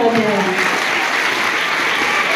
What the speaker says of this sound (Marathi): सर्वांनी टाळ्या वाजवून प्रतिसाद द्यावा.